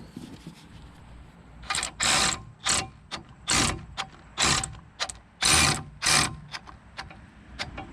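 A ratchet drives brake bolts on a Nissan Rogue during a front rotor and pad job: a long run of quick, irregular ratcheting bursts, close up and fairly loud, with no voices.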